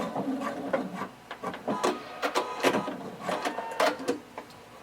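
A sewing machine back stitches on shorts or pant fabric, giving short, uneven bursts of mechanical whirring and clatter close by.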